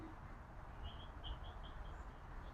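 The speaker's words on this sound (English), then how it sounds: "Every kind of bird that can chirp is chirping." Several birds chirp outdoors near a tree in a quick series of short, high tweets, faint and slightly distant over a steady background hiss.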